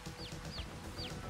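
Chickens on a farm in Farming Simulator 22 give three short, evenly spaced clucks over a steady background of farmyard ambience.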